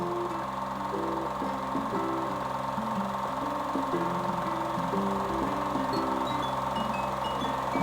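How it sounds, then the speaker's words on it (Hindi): A motorcycle engine on a slippery snow-covered road idles and revs with a steady, throbbing hum, its tone rising and falling slightly, heard alone at moderate loudness. "अब दूसरे मोटरसाइकिल की बारी है जी, शेख साहब की मोटरसाइकिल की।"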